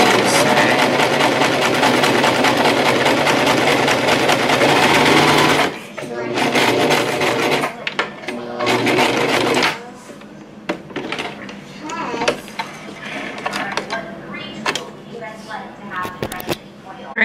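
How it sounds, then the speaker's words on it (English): Sewing machine stitching fabric face mask pieces, a loud continuous rapid whir for about six seconds, then shorter start-stop bursts, with a child and an adult talking nearby. "the two pieces, I sewed it together here on the bottom and on the top part"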